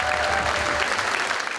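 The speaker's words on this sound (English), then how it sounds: "They start banging their feet, they start clapping their hands" Spectators at the Northern Games clapping hands to cheer on athletes, a loud, dense burst of applause with a faint crowd murmur underneath, continuous across the short stretch.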